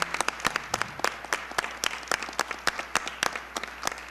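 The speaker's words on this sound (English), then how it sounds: "it's appropriate for us to give a round of applause" A crowd applauding steadily, many hands clapping at once with sharper individual claps standing out, continuous throughout.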